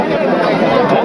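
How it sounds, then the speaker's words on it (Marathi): A dense crowd mills around the chariot at the Shri Durga Devi Rath festival in Velas, a loud, steady hubbub of many overlapping voices close by. "फुल गर्दी आहे।"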